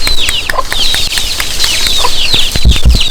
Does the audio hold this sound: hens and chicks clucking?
yes